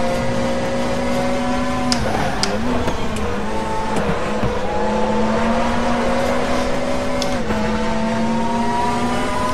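A Chevrolet touring car races at Macau in the RaceRoom WTCC video game, its engine droning loud and steady through gear shifts, with brief tire squeals and bumps along the way.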